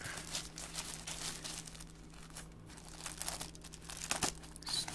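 Crinkling, rustling sticky plastic wrapping being pulled and peeled off a wireless keyboard, close up, with a steady low hum beneath and a brief sharper tear near the end.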